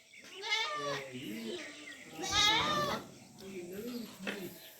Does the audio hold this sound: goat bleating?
yes